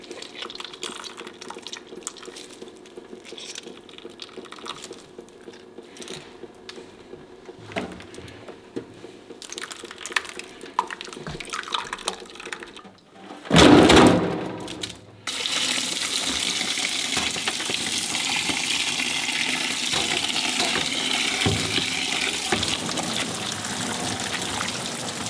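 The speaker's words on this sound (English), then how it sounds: "I'm washing the butter." Tap water running over freshly churned homemade butter as it is rinsed to wash out the remaining milk; intermittent splashing and handling noises give way to a steady, loud gush of running water in a sink.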